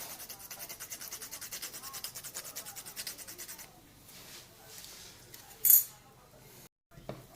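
A cheese soufflé mixture, seasoned with pepper, salt and nutmeg, is mixed with a utensil in a bowl, giving steady rhythmic rubbing and scraping strokes for several seconds, then quieter scrapes with a brief sharp clink near the end.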